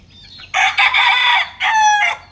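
A black mackerel hen that has been laying eggs lets out loud, close clucking calls, two strained bursts with a short break, alone in a quiet yard.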